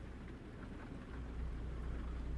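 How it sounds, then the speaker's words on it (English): Rain falls steadily during a drive in American Truck Simulator, a faint, even wash of patter layered over a low rumbling hum that swells slightly toward the end. "It is raining, so we are gonna be a little bit cautious."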